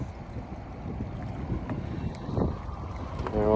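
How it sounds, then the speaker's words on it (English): A 2014 Hurricane Fun Deck 202 deck boat's engine idles steadily on the water with broadband rumble and wind noise; a brief brighter burst near the end rises above the continuous drone. "Well, I got the engine running right now."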